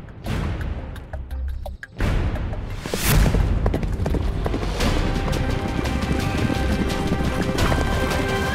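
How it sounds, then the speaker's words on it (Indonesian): Several horses gallop in a dense, rushing clatter of hooves that swells and carries on steadily, set in a historical drama, with a loud crash-like burst early on. "Suara kuda ke arah sini."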